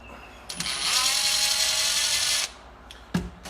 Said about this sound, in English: So we will remove these two screws.